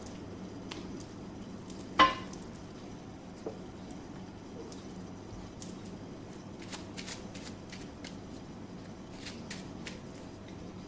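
Tarot cards shuffled by hand in soft, quick riffling bursts with light flicks and taps, close and quiet against a faint room hum.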